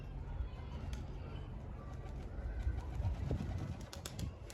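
Soft pigeon cooing, faint and low, against a steady rumbling outdoor background with a few scattered clicks.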